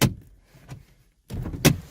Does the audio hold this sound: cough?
no